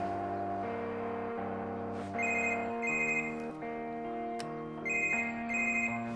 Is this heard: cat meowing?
no